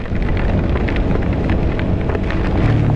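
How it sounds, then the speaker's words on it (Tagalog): Heavy rain pouring down during a sudden downpour, a loud, dense, continuous hiss and patter close by with no talking. "Sobrang lakas ng ulan, no?"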